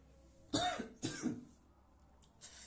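Two sharp coughs in quick succession, close and fairly loud, followed by a fainter throaty sound after a short pause.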